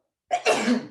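A single short, explosive sneeze from a person with allergies bursts out of silence, close and fairly loud, lasting under a second.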